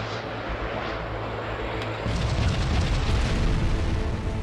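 A video game starship's engines roar steadily with a dense, rumbling wash of noise that swells louder partway through, amid a missile barrage. No voices are heard.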